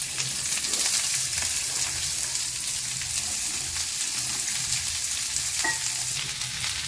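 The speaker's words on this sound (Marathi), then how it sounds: "आता बघा तेल गरम झालेलं आहे। यामध्ये सगळी भेंडी आपल्याला काढून घ्यायची आहे।" Okra fries in hot oil in a wok with a loud, dense, continuous sizzle and crackle close by, steady from start to finish, with faint stirring scrapes underneath.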